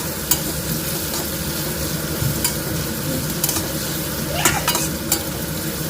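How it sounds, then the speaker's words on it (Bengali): Carrots, capsicum and other vegetables sautéing in a pan, a close steady sizzle with repeated scraping and stirring strokes of a spatula against the pan. "এটা একটু হালকা সটে করতে হবে।"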